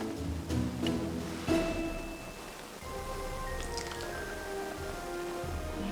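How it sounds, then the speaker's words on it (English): A thick banana and mixed berry smoothie is poured into a glass, with soft wet glugs and a few drips and splashes, close but faint, in a quiet kitchen. "Now let's pour it into the glass."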